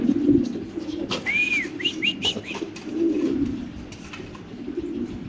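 A male black King pigeon at a fancy pigeon farm gives low, throaty coos in a few rolling bursts, close by, with a brief whistling sound and faint background noise.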